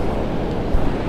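Large ocean waves breaking on the beach at Oxnard, California, a loud, close, continuous roar of surf mixed with wind buffeting, one slightly heavier surge partway through.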